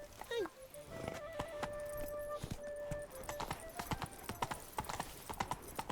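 Horse hooves clip-clopping in The Witcher video game, a quick, regular trot of close hoofbeats running throughout, with a brief whinny at the start and faint game music underneath.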